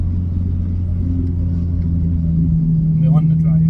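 A loud Honda EP3 Civic Type R engine drones steadily while driving, a heavy low rumble with vibration and a rising tone near the end. Close cabin sound, with a voice speaking over it.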